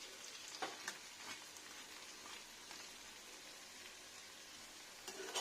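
Lentil dumplings (bori) made from kalai frying in oil, giving a steady close crackling sizzle with occasional louder pops and stirring clinks, no voices.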